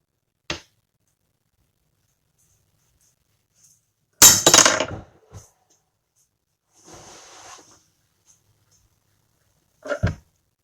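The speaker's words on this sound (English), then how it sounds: "GearWrench 84 tooth ratchet going to failure." A GearWrench 84-tooth ratchet is torqued until it fails, and it gives a loud sharp metallic crack followed by rattling clinks. Scattered smaller knocks come before it and a final clank comes near the end, with quiet between them.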